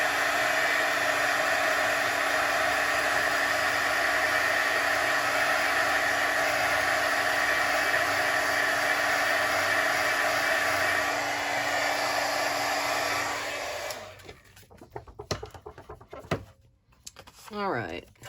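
Heat tool drying embossing powder on card paper, a loud steady blowing whir held for about thirteen seconds before switching off, followed by a few light handling clicks and taps.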